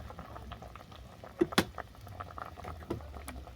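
Fish curry broth with potato simmering in a pan, a soft low bubbling with a couple of sharper pops, faint and close.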